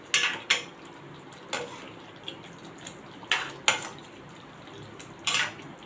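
A spoon scrapes and clinks against a pan while stirring stuffed bitter gourds with masala on medium heat, producing several sharp, separate knocks over a faint background hiss.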